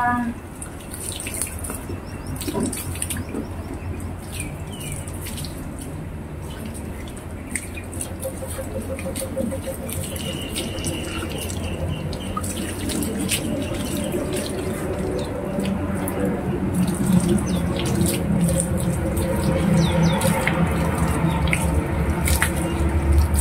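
Tap water splashes and drips steadily while dogs are rinsed at bath time, running close and fairly loud for a long stretch with scattered wet squishes.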